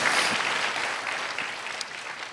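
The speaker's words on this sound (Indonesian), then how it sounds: "Berikan tepuk tangan kita untuk Tuhan kita." A church congregation claps at a sermon's close, a lively burst of applause that starts strong and slowly thins out.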